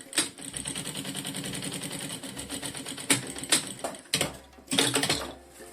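A sewing machine runs in quick bursts, stitching lining along the edge of synthetic fabric for a small animal backpack, with short pauses and restarts between fast mechanical runs.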